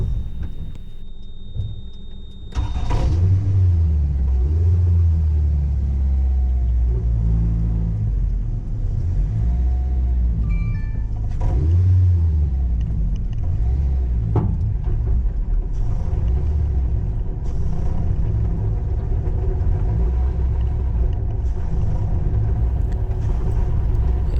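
A Toyota MR-S with a fully tuned K24 VTEC engine and a blown transmission is towed while rolling. After a quiet start, a loud, continuous low grinding rumble sets in and wavers in pitch for the rest of the stretch.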